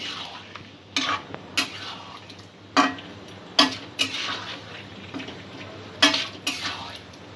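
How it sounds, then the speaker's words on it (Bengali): Potatoes with spices are stir-fried in a pan, with a spatula scraping and knocking against the metal in irregular close strikes over a low sizzle. "আলুর সাথে মশলাটা একটু কিছুক্ষণ কষিয়ে নেব"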